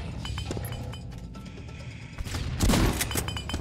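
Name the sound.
explosions and gunfire in video game Doombringer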